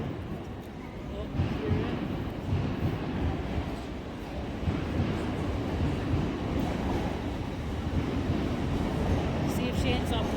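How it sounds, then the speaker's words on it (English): Train pulling into a station, a steady low rumble and rolling rail noise close by, with people talking over it. "Here comes Katy's train."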